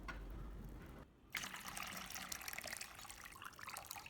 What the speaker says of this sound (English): Add fresh water and rinse the beans 1 to 2 times until the dark color is gone.